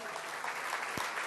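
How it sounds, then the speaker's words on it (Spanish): A church congregation at a Restored Generation service in Argentina breaks into applause, a brief wash of clapping with one sharper low thump near the end. "Denle un fuerte aplauso al Señor"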